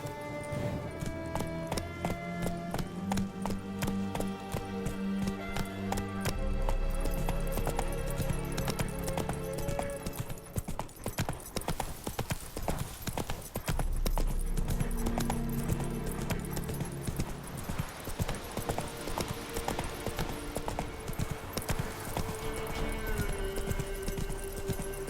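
Roach, a horse in The Witcher, gallops with steady, close clip-clopping hooves running through the whole stretch, mixed with a loud game score and effects, and a brief whinny may be present.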